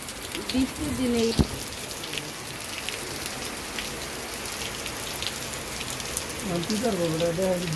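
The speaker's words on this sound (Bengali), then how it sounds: "আমরা বৃষ্টিতে আটকা পড়েছি এই যে দেখুন আমরা উপরে না উঠতে উঠতেই বৃষ্টি" Heavy rain pours down steadily on surrounding surfaces, a dense close hiss with scattered drops and faint voices talking underneath.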